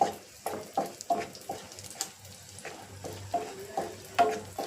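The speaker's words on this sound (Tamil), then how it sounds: "கிஸ்மிஸ் பழம் நல்லா பொரிஞ்சு வரட்டும்" Raisins fry in hot oil in a pan with a soft, steady sizzle. A spoon scrapes and taps against the pan in irregular strokes, fairly close by.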